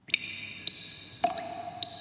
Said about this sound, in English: I added a little bit of compression and reverb onto it to bring that drip sound to the next level